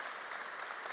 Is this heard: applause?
yes